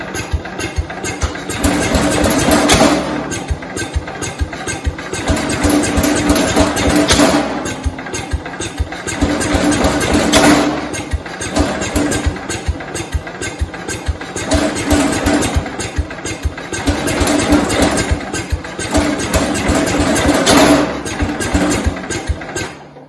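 Engine of a 1969 Cub Cadet 105 tractor runs loud and close, its throttle opened in repeated surges that rise and fall every few seconds over a steady putter.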